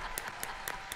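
A few slow, separate hand claps, about four in one second, faint and spaced apart as one person half-heartedly applauds a talent show act.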